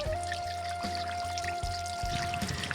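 Water pours steadily from a shower during bathing in a village home, an unbroken rushing stream with a faint ringing tone running through it.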